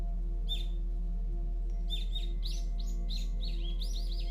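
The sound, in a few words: birds singing in a forest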